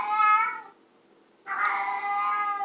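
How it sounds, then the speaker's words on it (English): A house cat meows twice in two drawn-out, clear cries separated by a short pause, fairly loud and with no talking. "excuse the sound in the backdrop. It's my daughter's cat and always driving me nuts."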